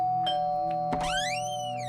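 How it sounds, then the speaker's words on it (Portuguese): A doorbell sound effect in a narrated audiobook rings out as a clear, close electronic chime with a couple of tonal hits and a rising melodic ring that fades away, with no voice over it. "tocou a campainha"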